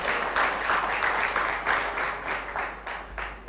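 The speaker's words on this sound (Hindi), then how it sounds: "एक बार जोरदार तालियां आप अपने लिए बजाइए।" Audience applause at an annual GST summit, a moderate wash of clapping that swells in pulses and gradually tapers off toward the end.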